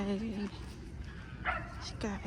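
A dog gives a few short barks and yips in the dog area of Piedmont Park, faint and somewhat distant, with people's voices talking nearby.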